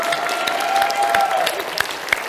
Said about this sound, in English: give Muddles his giant round of applause